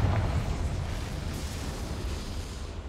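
A Confringo spell explodes in Hogwarts Legacy, a loud booming blast at the start that rolls into a broad rumbling decay.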